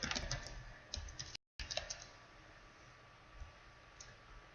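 A computer keyboard clatters with a quick run of close, crisp keystrokes entering a game chat command, then slows to a few scattered taps after a brief dropout, over faint background hiss.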